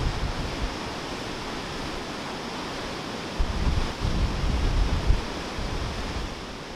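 Water from Hartbeespoort Dam, overflowing after heavy rain, rushes out in a steady broadband roar that holds constant and swells louder near the middle, with no talk.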